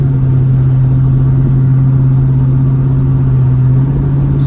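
A deep, steady V8 exhaust rumble through an H-pipe on a 1970 El Camino drones continuously from inside the car, loud and low-pitched with no change in pace.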